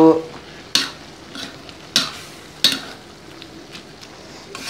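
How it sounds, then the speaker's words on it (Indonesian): A spatula scrapes a pan three times in sharp strokes as fried dried shrimp (rebon) filling with spring onion is stirred, a soft sizzle running underneath between the strokes; no talking. "Aduk-aduk."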